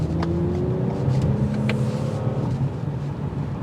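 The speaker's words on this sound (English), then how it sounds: "that catback exhaust just gives that signature touch" A 2023 Toyota Camry TRD with a catback exhaust gives a steady, loud low rumble and drone during a test drive, with no talking over it.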